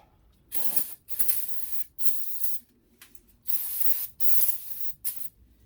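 Repeated loud brake cleaner spray bursts on a Toyota Sienna brake rotor, six or seven short blasts of hissing with brief pauses between them, close to the microphone.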